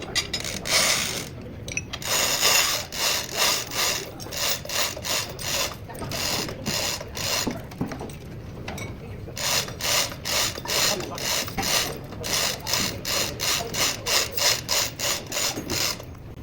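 A tool used in a diesel tech shop to pull up a diesel engine crankshaft, making rapid repeated ratcheting clicks in bursts with short pauses, close and fairly loud.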